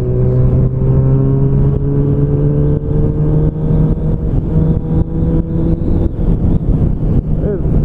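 A Honda CB1000R motorcycle engine revs and pulls hard under acceleration, close and loud, its rising whine climbing steadily through the gears with a continuous roar and brief dips at each shift.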